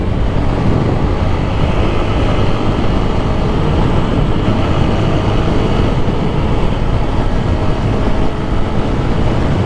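Train passing near a railway line, heard as a loud continuous low rumble and roar throughout, steady and close, with no speech.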